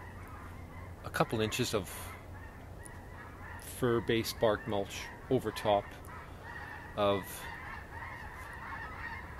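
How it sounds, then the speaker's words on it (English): Snow geese honk in repeated bursts as they fly south overhead above a winter garden, several loud clustered calls rising over a man's speech. "you can hear the snow geese above me wandering, currently flying south"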